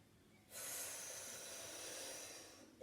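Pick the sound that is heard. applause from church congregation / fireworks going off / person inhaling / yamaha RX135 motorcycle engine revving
person inhaling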